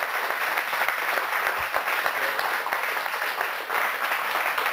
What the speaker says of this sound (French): Je vous propose encore d'applaudir notre orateur